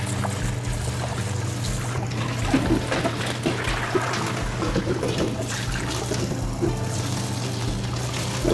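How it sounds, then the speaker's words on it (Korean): Boiled noodles for a chilled chicken noodle dish are rinsed under a steady stream of running tap water, with continuous splashing and trickling close by and no talking. "면은 깨끗한 물이 나올 때까지 헹궈서 물기를 제거해서 이제 담아 보겠습니다"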